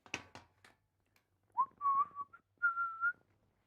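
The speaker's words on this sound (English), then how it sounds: "Whistling good for the audio" A man whistles a short tune close to the mic, a few clear sustained notes in two phrases after some brief low scuffs, with no talking.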